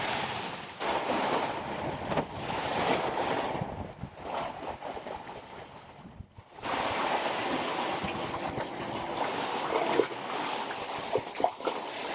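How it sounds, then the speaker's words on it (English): A new custom aluminum sailboat pounds into closely spaced head-on ocean waves, with broad rushing water and wind noise rising and falling in surges, then a sudden drop before a steady loud wash resumes. "With each wave coming at us head on and barely a few seconds between them, it made for a pretty uncomfortable and rocky ride."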